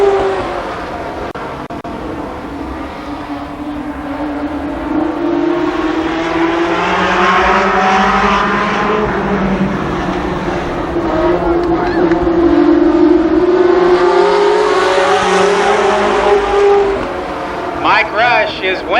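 Winged sprint cars at a speedway heat race in 1993, the engines rising and falling as the pack passes, loud and sustained under a voice on the public address.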